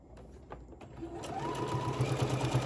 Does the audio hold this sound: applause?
no